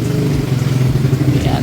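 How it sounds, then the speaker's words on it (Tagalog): Car engine idling steadily during an aircon service with new coolant and freon, a continuous low rumble held at even loudness throughout. "medyo maingay yung motor"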